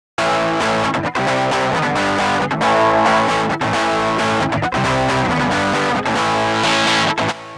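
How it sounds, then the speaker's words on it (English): Distorted electric guitar run direct through the Electrum Core amp plugin with no cabinet, a gritty, fizzy, steady riff of chugging chords and short stops, loud and continuous throughout. "what you will hear right now is direct out of the amp, so it will sound more gritty and fizzy than with a cabinet"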